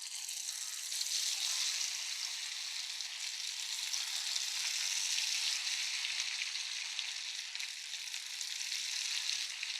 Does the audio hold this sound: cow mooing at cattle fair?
no